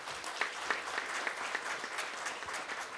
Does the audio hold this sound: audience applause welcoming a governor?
yes